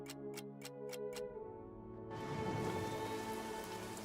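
In the trench-warfare video game All Quiet in the Trenches, a few quiet ticks over a low musical drone give way to a sudden, steady hiss of rainfall that continues to the end.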